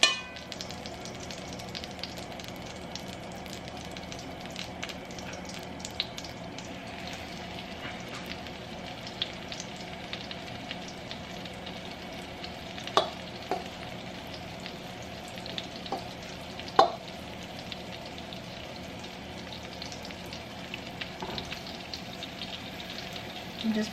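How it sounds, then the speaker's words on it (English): Pork chops browning in a pan for smothered pork chops, a steady low sizzle and frying hiss throughout with a few brief clinks or taps, no talking. "add in your pork chops"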